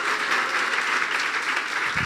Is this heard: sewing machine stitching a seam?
no